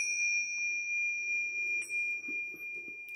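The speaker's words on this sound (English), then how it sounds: "Let's get a quick bell for the Mother and Father." Bell struck once during a morning religious gathering, a clear sustained ringing tone that fades slowly, with faint soft background noises beneath.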